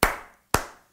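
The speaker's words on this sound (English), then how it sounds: "Everybody can clap and clap and clap your hands" Two sharp, close hand claps about half a second apart, each ringing briefly before fading, during a children's sing-along class with no voices over them.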